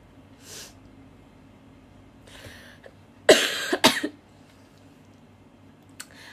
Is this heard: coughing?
yes